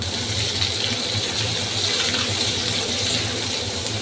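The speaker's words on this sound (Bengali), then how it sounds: "এর মধ্যে দিয়ে দেবো কেটে রাখা পেঁয়াজ আর কাঁচা লঙ্কাগুলো" Chopped onions and green chillies go into a pan of garlic frying in oil, giving a loud, steady sizzle that holds evenly throughout with no voices.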